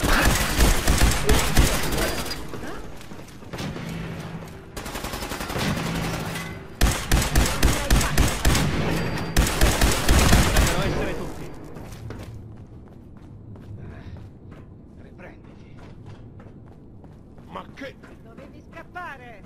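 Fallout 4 combat against raiders: rapid bursts of gunfire in several loud volleys over the first twelve seconds, then quieter footsteps and thuds, with Italian voices talking throughout.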